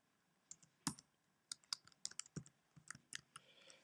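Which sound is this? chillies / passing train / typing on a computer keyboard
typing on a computer keyboard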